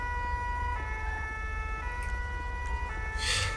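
An ambulance siren in the video game GTA 5 drones on steadily as the vehicle arrives, holding a constant tone over low background engine rumble.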